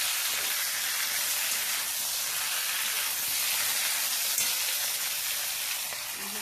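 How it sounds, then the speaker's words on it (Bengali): Pieces of katla fish coated in salt and turmeric fry in hot oil, a steady close sizzle and hiss with no talk. "মাছগুলো ভালো করে দিয়ে নুন হলুদ মাখিয়ে ভেজে নিচ্ছি।"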